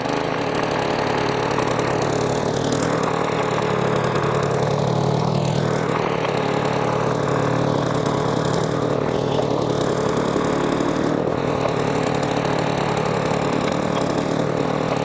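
A mini tiller's small engine runs continuously as it works a raised garden bed, a steady close droning with shifting load and scraping churn from the soil, no voices over it.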